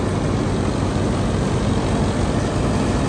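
Indofarm 3065 DI side-gear tractor with a heavy front bumper, its engine idling in a loud, steady, low rumble close by.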